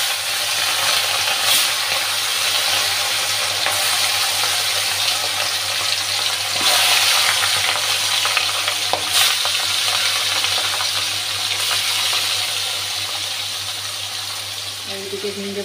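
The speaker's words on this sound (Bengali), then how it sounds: "এইদিকে মাছটা আমি বসিয়ে দিচ্ছি ভাজতে" Katla fish pieces fry in a pan of oil, giving a loud, continuous close sizzle with faint clatter throughout and a low hum underneath.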